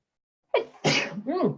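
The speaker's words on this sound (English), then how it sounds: "Oh, I'm going to sneeze." A single person sneezes: a sharp gasping intake, then a loud explosive burst, followed by a short voiced exhale, close to the microphone in an otherwise quiet room.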